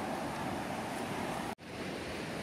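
Sea waves washing onto a rocky beach at Praia do Tororão in Bahia, a steady loud broadband surf roar with a brief dropout near the end.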